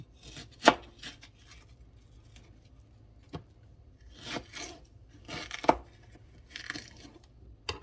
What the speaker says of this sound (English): I'm just going to slice them really big so that they're in the bottom of the pan